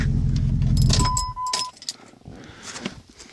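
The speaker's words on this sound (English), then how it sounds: "But I'm gonna go ahead and shut it off here." A 2001 Jeep Grand Cherokee with the 4.7 engine idles loudly up close, then cuts off with a short mechanical wind-down after about a second, leaving jangling keys and faint rustles.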